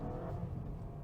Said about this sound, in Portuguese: Vamos dar uma aceleradinha aqui, dar uma puxadinha, puxei